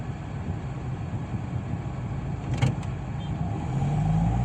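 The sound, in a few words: motorcycle pulling away uphill with throttle and half clutch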